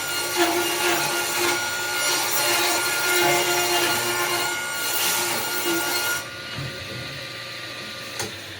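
Saw cutting through wood for a DIY bolt bin organizer, a loud continuous rasping run of strokes lasting several seconds before easing into quieter workshop noise.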